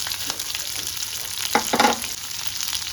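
Chopped onions hitting a hot tempering of mustard seeds and urad and chana dal for South Indian masala dosa filling, a continuous close sizzle with a couple of brief louder crackles and stirring, no talk.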